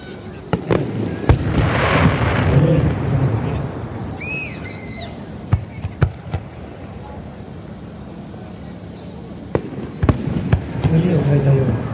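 Fireworks at the 2019 Akigawa river fireworks festival burst in sharp cracks and booms with crackling tails and a few whistling rises, over outdoor wind and crowd noise, with people talking.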